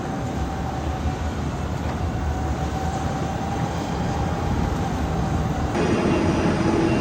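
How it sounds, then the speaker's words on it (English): A wood chipper runs full bore on a farm, chipping from a big pile: a steady, loud mechanical roar with a constant droning hum, close by and unbroken throughout, with no voices. "the chipper working, running full bore."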